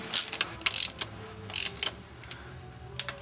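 Short bursts of ratchet clicking as bolts on a Subaru intake manifold gasket are tightened, several separate spurts of quick metallic ticks with brief pauses between, close and fairly quiet.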